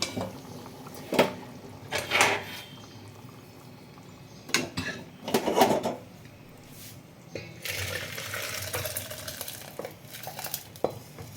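A cooking pot of chana dal, cooked with coconut, is lifted off the stove with a few sharp metallic clanks and scrapes spaced across the span, followed by a softer, steady clatter of kitchen utensils.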